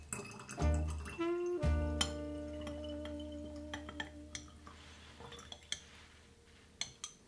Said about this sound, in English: So just pouring this down the spout, and I would recommend a funnel for this.